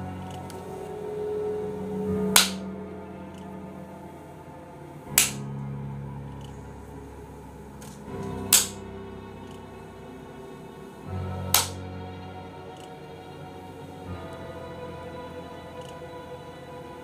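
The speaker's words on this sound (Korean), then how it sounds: "박수 소리가 들리고" Sharp single claps ring out four times at roughly three-second intervals over a low eerie ambient drone, a sound effect in a Korean horror story about a clapping ghost in a motel, with no voices.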